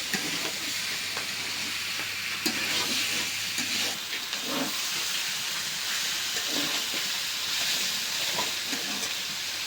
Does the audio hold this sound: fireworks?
no